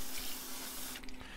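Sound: water from tap washing something off

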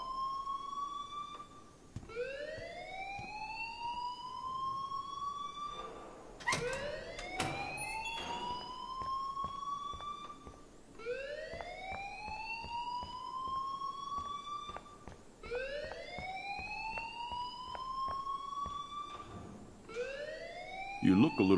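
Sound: school alarm ringing in video game Life is Strange

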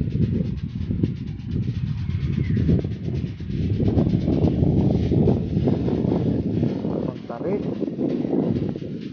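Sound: strong wind blowing outdoors

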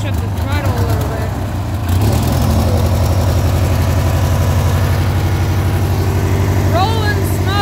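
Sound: Cub Cadet lawn mower engine running

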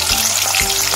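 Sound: corn frying and sizzling in oil in a pan, Jain poha

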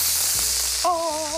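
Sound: onion frying in melted butter in a large pan

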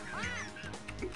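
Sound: Spaz burping in the Jazz Jackrabbit 2 video game

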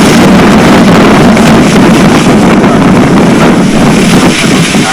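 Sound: wind blowing into the microphone

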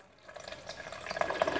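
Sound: water being poured in while making jenipapo juice

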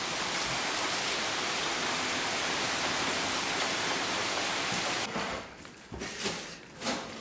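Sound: heavy rain downpour

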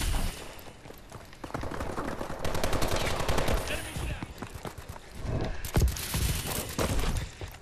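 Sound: Blunderbuss Culverin gunfire in video game Call of Duty: Advanced Warfare

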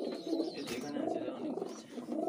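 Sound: young pigeons cooing in loft

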